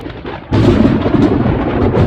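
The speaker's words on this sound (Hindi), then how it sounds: "अरे देखो बादल गरज रहा है" A loud clap of thunder bursts in suddenly and rolls on as a deep, sustained rumble.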